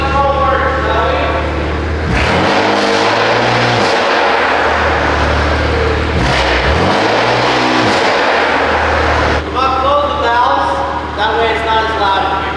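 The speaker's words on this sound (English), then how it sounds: "let's go ahead and show you what these intakes sound like" A BMW M4 Competition fitted with front mount intakes roars through a launch control run, its engine revving hard and loud with several sharp drops and surges in pitch as it builds and releases, heard up close throughout.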